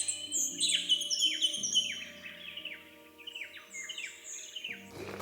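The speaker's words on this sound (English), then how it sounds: "walking this morning, it's so beautiful just hearing all the birds" Birds singing along a morning hike on the Tasman Peninsula in Tasmania, repeated bright chirps and descending whistled phrases close by, with no talk.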